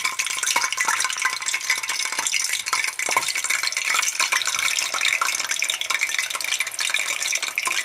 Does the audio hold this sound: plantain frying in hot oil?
yes